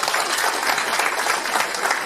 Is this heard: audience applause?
yes